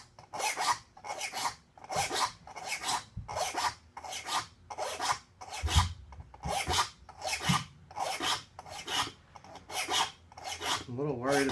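Hand file drawn across the teeth of a rip saw in regular, evenly spaced rasping strokes, about a dozen close scratchy passes with short gaps between them.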